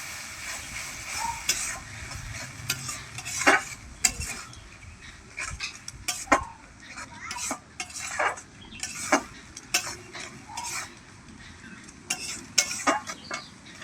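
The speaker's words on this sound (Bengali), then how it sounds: "সমস্ত মশলার সঙ্গে ডিমটা খুব ভালোভাবে কষিয়ে নিচ্ছি" Egg mixed with spices and ginger paste being stirred and fried in a pan for an egg tarka, with repeated spoon and utensil clinks and scrapes against the metal over a faint, low background sizzle, close by and without talk.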